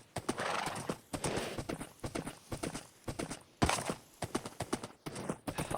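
A horse in the Minecraft video game trotting with rapid clip-clop hoofbeats in uneven bursts, close and fairly loud, with a brief whinny mixed in and short gaps between runs of steps.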